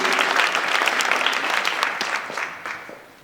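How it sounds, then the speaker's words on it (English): A large audience claps in a loud, dense round of applause at a public gathering in Hempstead Village, the sustained clapping thinning and fading toward the end. "You ought to give yourselves a round of applause"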